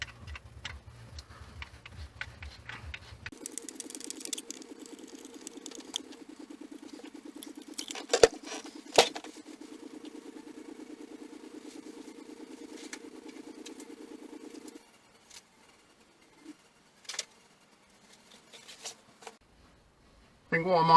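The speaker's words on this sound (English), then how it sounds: "this is the fuel pump" A Classic Mini's electric fuel pump, held in a small stainless steel coil clamp, runs with a rapid, steady ticking patter for about ten seconds and then stops, leaving a few faint clicks nearby.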